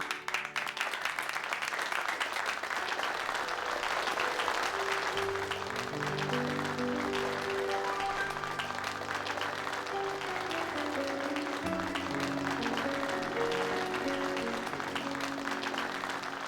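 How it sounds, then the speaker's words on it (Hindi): A stage audience claps steadily to welcome Juhi Chaturvedi, the dense applause running for the whole stretch over a bed of music. "तो प्लीज तालियों से स्वागत कीजिए"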